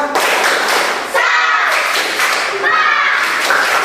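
A primary school class performing a rhythmic spirit clap, sharp patterned claps in quick bursts from children close by, mixed with young voices chanting along.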